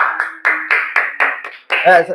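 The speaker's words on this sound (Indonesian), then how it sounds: "kita beri tepuk tangan dulu" Short, rhythmic clapping bursts from students in a classroom, several quick rounds in succession, mixed with voices talking over them.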